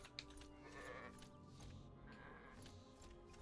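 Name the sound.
sheep bleating in the video game ArcaniA: Fall of Setariff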